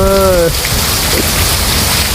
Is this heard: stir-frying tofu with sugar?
no